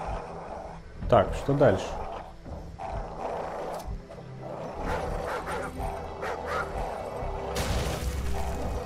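Dogs barking and growling in Call of Duty 4: Modern Warfare, mixed with game noise and someone talking; a couple of louder bursts early, then a steady busy background.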